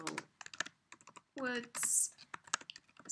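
Soft clicking keystrokes tap out a file name on a computer keyboard in irregular bursts, close and quiet, with a voice speaking briefly in the middle.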